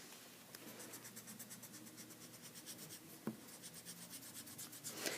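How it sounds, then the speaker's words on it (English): An eraser scrubs pencil writing off paper in quick, rhythmic back-and-forth strokes, faint and close, with a small tap partway through. "I'm going to erase it."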